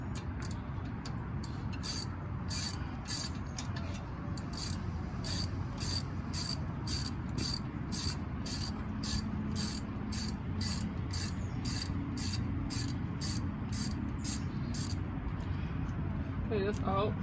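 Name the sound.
ratchet removing a screw on a 2004 Nissan Murano's brakes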